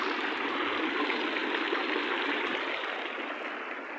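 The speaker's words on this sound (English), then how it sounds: "Nice little sprinkling system." Continuous hissing spray of a sprinkler system in the grounds of Schwerin Castle, close and steady for the whole stretch, easing slightly toward the end with no voices.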